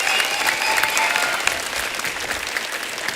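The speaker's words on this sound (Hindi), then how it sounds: "जोरदार तालियां सबके लिए।" Studio audience applause on a Hindi comedy talk show, steady loud clapping filling the whole stretch with no talk over it, as guests are welcomed onto the stage.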